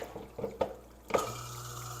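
Water runs from a tap into a sink during a house renovation, with a couple of clunks and taps early on before a steady, moderate flow settles in alone.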